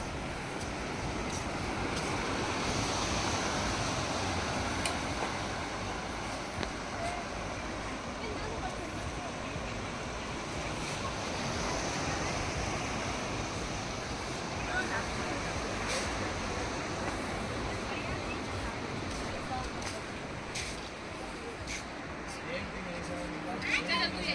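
Sea waves at Baga Beach, Goa wash in a continuous broad roar with gentle swells, close and steady, while people talk over the surf.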